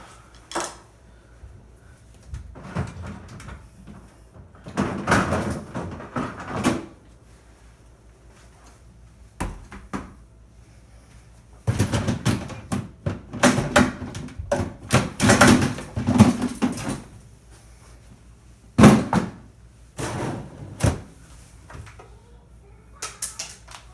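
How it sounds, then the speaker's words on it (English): Plastic clatters, thumps and sliding knocks of a Whirlpool freezer's door and drawers being lifted out, in irregular bursts with quiet gaps between, close by and without talk. "I take the door off and then take the drawers out."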